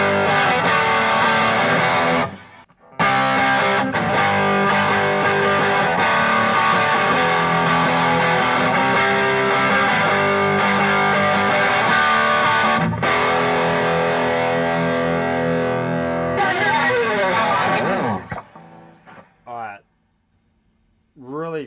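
Electric guitar through EHX OD Glove and Mosky Obsessive overdrive pedals rings out loud and saturated, sustained chords with a brief gap early on, then fading into a few quieter plucked notes at the end.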